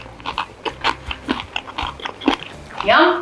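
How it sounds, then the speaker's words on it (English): Roasted spiced chickpeas are crunched in a close series of bites, crisp chewing snaps over a low hum, with a voice briefly speaking near the end. "Roasted chickpeas. They're very crunchy."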